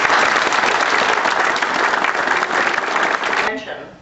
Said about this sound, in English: So please, some applause.